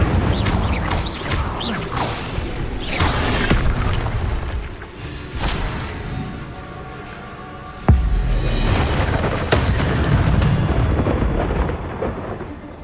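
Incendio fire spell cast in Hogwarts Legacy, heavy booming blasts and rumbling impacts with a sharp crack near the middle, loud and close over a continuous mechanical din.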